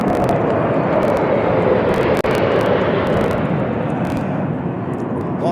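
South African Air Force 21 Squadron VVIP aircraft fly over in formation at a presidential inauguration, a loud, sustained, roaring engine rumble close overhead, with one brief sharp crack partway through.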